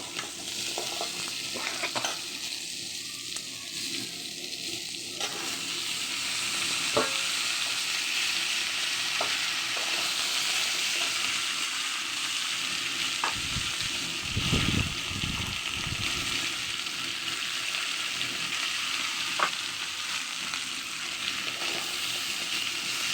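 Panch phoron, the Bengali five-spice mix, sizzles loudly and steadily in hot oil for a vegetarian vegetable fry, with occasional light clicks and scrapes of a stirring utensil and no talking.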